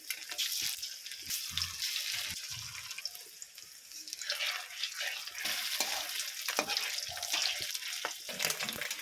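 Katla fish pieces frying in hot oil in a kadai, a steady crackling sizzle with occasional sharper pops and stirring clatter.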